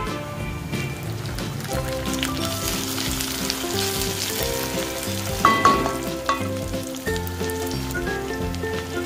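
Chopped small tomato hitting hot oil with golden-brown onions in a pan for restaurant-style chicken gravy, a loud, steady sizzle with stirring scrapes and a brief louder spurt midway, close and without talk.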